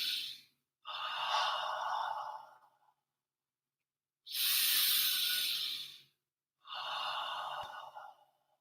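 Slow, deep breaths drawn in and let out during a stretching routine, each long airy inhale and exhale separated by brief pauses, close and clear with no talking.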